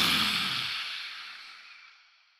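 A lion's breath: one long, loud, forceful exhale pushed out with the tongue stuck out, a breathy rush that starts strong and tapers away over about two seconds, close and alone.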